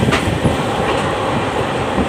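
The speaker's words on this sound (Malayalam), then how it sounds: "ഞാൻ നല്ല വേഗത്തിൽ പോകുന്ന ട്രെയിനിലാണ്, ബാംഗ്ലൂർ കന്യാകുമാരി ട്രെയിനിലാണ്" The fast Bangalore–Kanyakumari express train runs at speed, heard from on board as a loud, continuous rumble of wheels and rattling carriages with a faint clatter, and no voices.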